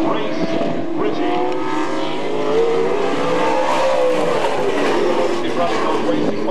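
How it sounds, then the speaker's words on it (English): Engine of race car number 61 running racing mufflers at C.C. Speedway in 1995, a steady droning roar with a shifting pitch that carries throughout, mixed with crowd or announcer voices. "He runs those racing mufflers, making it a little quieter."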